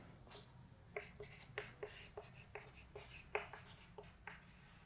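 Pen writing physics notes on paper, a soft scratchy stroke pattern with short strokes and small taps, close and faint over low room hiss, no speech.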